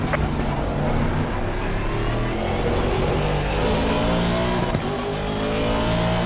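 A car engine accelerates in a racing video game, a loud, steady roar with rising pitch that runs throughout, close and unbroken.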